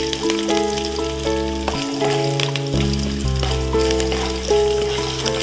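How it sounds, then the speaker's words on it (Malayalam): Green chili, ginger and curry leaves fry loudly in a pan with a dense, continuous crackling sizzle up close, with a steady tonal hum running beneath it. "ഇഞ്ചിയും പച്ചമുളകും കറിവേപ്പിലയൊക്കെ മൂത്തിട്ടുണ്ട്"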